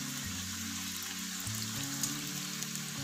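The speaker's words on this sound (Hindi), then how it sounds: "ये देखिए कितने अच्छे फ्राई हो रहे हैं" Chicken spring rolls sizzle steadily in hot oil, a continuous close crackling hiss with a low hum underneath and no voices.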